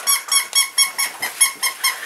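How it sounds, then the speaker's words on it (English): A squeaky dog toy squeaks in a quick, steady run of about nine sharp squeaks, close and fairly loud, with nothing else heard. "Got more squeaks."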